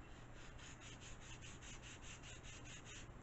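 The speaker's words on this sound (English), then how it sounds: "Gently sand those laser burrs off of it. Just very lightly on your sanding block." Laser-cut glider wood is lightly sanded on a sanding block, giving soft rhythmic rasping strokes about three per second, faint and close, with no speech.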